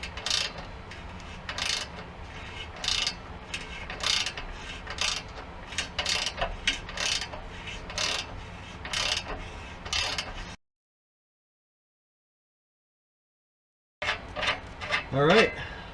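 Close, gritty metal-on-metal rasping and ratcheting in short repeated bursts as a tap cuts threads in a 2005 GTO exhaust header, then a pause of silence and one more scraping burst.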